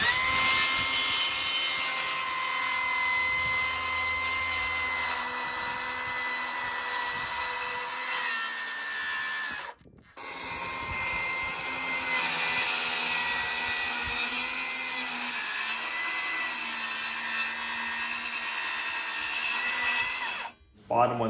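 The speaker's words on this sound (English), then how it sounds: "we gotta cut this one in half again and have two sheets" A power tool whines steadily through a wooden sheet, cutting it in half, with two brief pauses where the motor stops before running on at a constant loud pitch.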